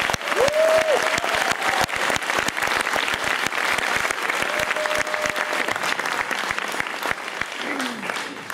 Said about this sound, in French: On peut l'applaudir, Adrien.